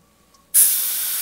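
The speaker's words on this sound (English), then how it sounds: "So I've switched to black in the airbrush." An airbrush loaded with black paint bursts into a loud, close, steady hiss after a short silence and keeps spraying evenly.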